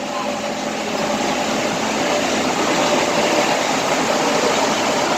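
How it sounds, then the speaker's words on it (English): A Mexico City metro train runs through a tunnel, giving a steady, dense rumble and hiss heard from inside the car, constant and fairly loud with no pauses. "We're in the tunnel of the metro train."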